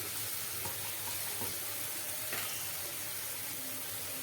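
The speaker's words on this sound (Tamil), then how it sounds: "நல்லா லைட் லைட்டாக வதக்கினா போதும்" Vegetables for chicken fried rice sauté in a hot pan, giving a soft, steady sizzle with faint stirring clicks and no talking.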